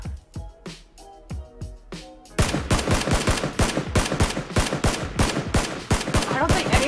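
Rapid gunfire in the PUBG battle royale game, a quiet stretch of a few scattered shots giving way to a loud, dense run of repeated rapid bursts that continues to the end.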